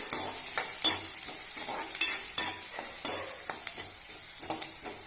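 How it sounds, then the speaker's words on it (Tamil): Onions and dry anchovies sauté in hot oil in a pan for a spicy dry fish fry, with a continuous close sizzle and repeated scraping strokes of a stirring spoon. "இப்போ எல்லாத்தையும் சேர்த்து நல்லா வதக்கிக்கலாம்"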